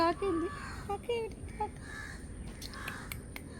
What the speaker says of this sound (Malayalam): ഇവിടെ കാക്ക എന്തിയെ?